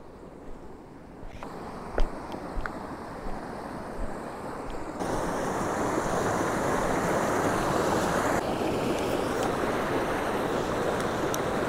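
A river runs over and between rocks with a continuous broadband rush. It starts fainter with a few knocks and clicks, then swells to a louder, steady roar as the listener nears the water. No one speaks.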